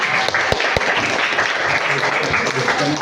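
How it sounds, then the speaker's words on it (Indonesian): Applause from a class audience at a school presentation, continuous clapping with a few sharper claps near the start and voices mixed in underneath. "Tepuk tangan dulu untuk kita semua."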